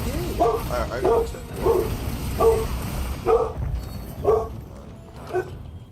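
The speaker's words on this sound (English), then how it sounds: "He keeps barking." A dog in a modded version of the video game Risk of Rain barks about seven times at a steady pace. The barks are fairly close and sit over a constant game background hum.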